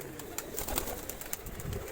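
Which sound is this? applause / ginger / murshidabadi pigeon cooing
murshidabadi pigeon cooing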